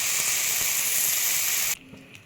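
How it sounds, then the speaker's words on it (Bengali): Steady bright sizzle of potato and eggplant frying in a little oil, loud and continuous, cutting off abruptly near the end to a quiet background. "তারপরে সেই আলু আর বেগুনটা অল্প তেলে ভেজে নেব"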